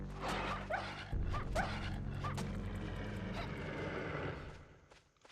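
Dog enemies in the video game Castlevania 64 give a quick run of yips and barks over dense, loud game sound, with no talking.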